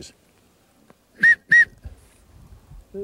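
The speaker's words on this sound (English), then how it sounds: "I'll give you a walk-up whistle, which I use." Two short, sharp blasts of a shepherd's walk-up whistle for a sheepdog in Scotland, blown in quick succession, loud and close, with quiet background rustling before and after.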